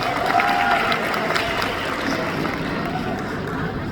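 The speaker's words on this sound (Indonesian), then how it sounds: "ini tepuk tangan untuk beliau" A crowd at an Indonesian graduation ceremony applauds in a steady, dense wash of clapping that carries on without a break, slightly distant and filling the hall.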